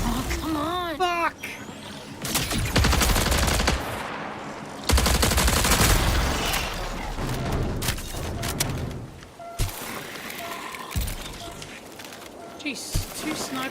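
Sniper gunfire in a military video game comes as loud broadband cracks and bursts, one after another, with someone talking excitedly over the shots.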